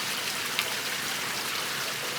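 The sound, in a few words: slow steady rain falling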